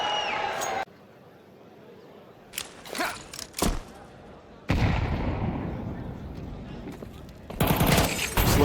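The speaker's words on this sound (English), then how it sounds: "Kixan with the headshot, and Falcons win out that pistol somehow." Bursts of gunfire from a Counter-Strike 2 pistol round in a professional esports match, with sharp repeated shots and a couple of louder volleys amid game ambience, heard alone without talk.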